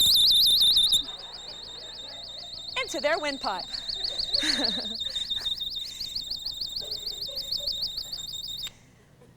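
A handheld personal alarm, set off by yanking its chain, screams a loud pulsing high-pitched electronic wail that runs steadily while people shout and talk over it, then cuts off abruptly near the end.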